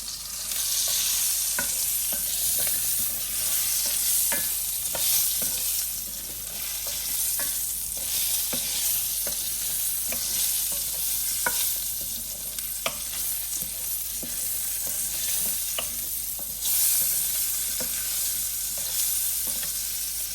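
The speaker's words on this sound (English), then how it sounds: "Now we're going to saute. In the same pan, we're going to put the onions in." Onions sautéing in butter in a pan, a steady close sizzle with occasional spatula scrapes and clicks, continuous without speech.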